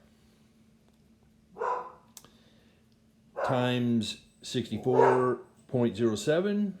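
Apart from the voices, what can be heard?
dog barking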